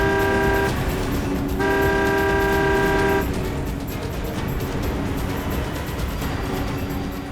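A car horn blares twice in long, loud, steady blasts over constant road and engine rumble as one car overtakes another, with the traffic noise continuing after the honks.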